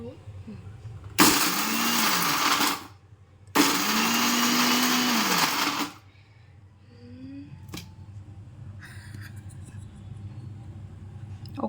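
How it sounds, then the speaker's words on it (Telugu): A kitchen mixer grinder whirs loudly in two bursts of about two seconds each, grinding biscuits for a cake, followed by quieter handling noises. "మిక్సీ అయితే పట్టేస్తాం విని ఒకసారి స్విచ్ ఆన్ చేయి"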